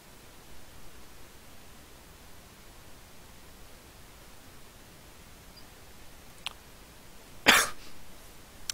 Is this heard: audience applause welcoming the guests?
no